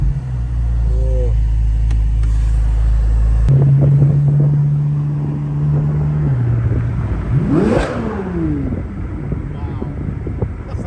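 A Chevrolet Corvette C8 Z06 engine revs and accelerates hard from inside the car, a deep droning rumble that climbs in a rising sweep with wind noise, while people talk over it.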